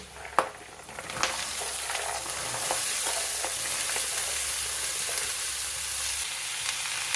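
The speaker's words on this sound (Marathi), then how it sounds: "मिक्स करून हाय फ्लेमवरती छान परतून घ्यायचं" Mixed vegetables with curry leaves, asafoetida and green paste stir-fry over high flame, giving a steady close sizzle with a few sharp clinks of the spatula against the pan.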